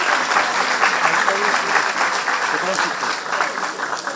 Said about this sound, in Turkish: alkış daha isteriz sizlerden